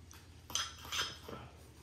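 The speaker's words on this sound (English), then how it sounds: "So we're just going to stir this up." A utensil clinks and scrapes against a bowl while thick peanut dipping sauce is stirred, a short burst of two or three close, light metallic knocks.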